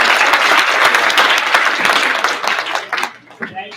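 An audience applauds at the close of a professional development session, a dense loud wash of many hands that tails off into scattered claps near the end.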